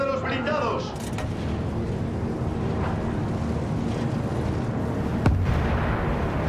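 Artillery cannon fire in the Battlefield 1 video game, a constant rumbling barrage of heavy booms with a sharper blast near the end, under in-game shouting and voices.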